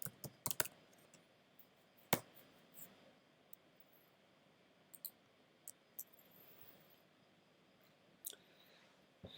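Sparse, faint keystrokes and clicks come from a computer keyboard while JavaScript code is typed, irregular taps scattered over a quiet room tone, with no one talking.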